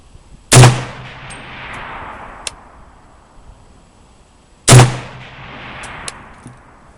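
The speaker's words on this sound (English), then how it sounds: "Okay, I'm gonna shoot this last few rounds." Two loud, sharp rifle shots from a BM 59 at an outdoor target range, spaced about four seconds apart, each with a long ringing echo that trails off into quiet.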